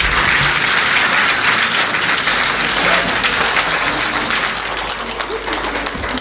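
Audience applause fills a forum on women in government and media, steady and loud throughout with dense clapping from a large crowd, continuing without a break.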